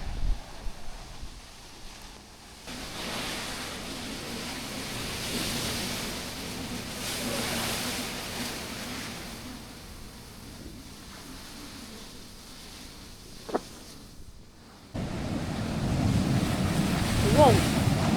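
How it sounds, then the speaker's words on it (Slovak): Big ocean waves break on the volcanic coast of northern Fuerteventura, near Corralejo natural park, with a continuous rushing surf roar and wind buffeting the microphone, growing louder near the end. "Pozrite sa na tieto mega vlny."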